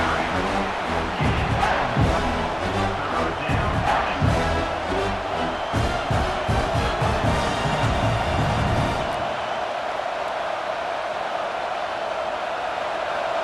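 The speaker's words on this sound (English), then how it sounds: "And here comes the noise. This crowd is trying to inspire this defense" A large video game stadium crowd at a college football game roars loudly and steadily, with chanting and cheering swelling, then easing off toward the end.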